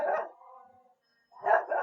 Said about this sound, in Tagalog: Sensya na kayo sa aso.